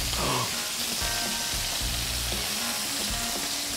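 Meat browns in a hot pan with a loud, continuous sizzle and crackle, with occasional soft knocks of stirring and handling underneath.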